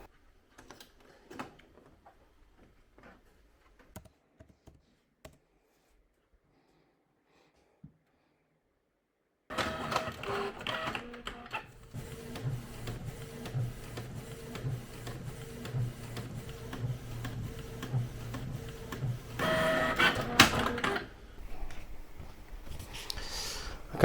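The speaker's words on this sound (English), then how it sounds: "Let's get this image printing and see what it comes out like." A photo printer prints a small black-and-white image. Faint ticks come first, then a loud, continuous mechanical whirring and rattling with rhythmic feed clicks that swells near the end.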